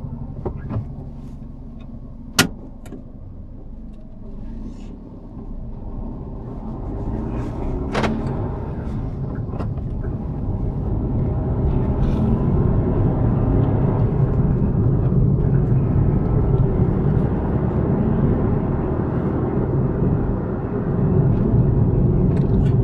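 A car pulls away gently in first gear, its low engine hum and road rumble building gradually and steadily from inside the cabin, with a brief sharp knock early on.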